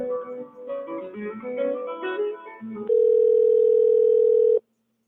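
Steady telephone dial tone from an open phone line during a call-in show, sounding loud and unbroken for about two seconds after a stretch of voices and background noise, then cutting off abruptly.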